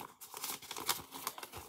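A folded sheet of paper, creased for a paper plane or fan, is opened out flat with crisp crinkling and rustling in several short bursts, close and fairly quiet, with no voices.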